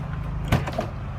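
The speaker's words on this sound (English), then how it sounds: "Now, this is how you open the door." A Lamborghini Huracan door opens with a brief mechanical click and soft thunk, close and fairly quiet, followed by a smaller latch sound.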